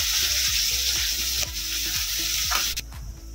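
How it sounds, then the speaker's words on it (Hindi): Onion and green chillies fry and sizzle in a pan for a Punjabi-style curry, a steady close hiss broken by repeated scraping stirs at a regular rhythm, with no talking. "ये प्याज हरी मिर्च हमारी अच्छे से फ्राई हो गई है।"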